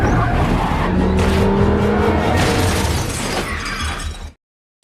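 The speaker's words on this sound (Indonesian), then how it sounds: "Vincent Dawn dan rekannya Sean sedang mengejar sebuah mobil yang membawa kiriman narkoba." Police car chase in a film, pursuing a car carrying a drug shipment: a loud roaring engine with screeching tires and crashing, shattering impacts, building steadily and then cutting off abruptly into silence.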